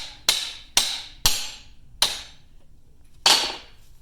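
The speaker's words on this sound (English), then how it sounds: "You can see as I'm hitting that the cap is starting to protrude from the yoke." Five sharp, ringing metal blows, irregularly spaced, as a hammer strikes the U-joint cap on a RZR prop shaft yoke, each one loud and close with a short metallic decay.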